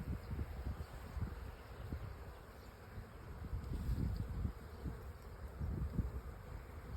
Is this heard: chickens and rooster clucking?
no